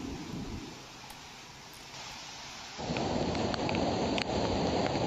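Heavy rain pours steadily over Valsad district in Gujarat during days of flooding, a dense, even hiss that swells noticeably louder partway through, with no voices.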